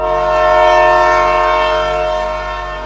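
A train horn sounds a single long, loud blast, a sustained chord of steady tones that swells early and then eases slightly as it holds to the end.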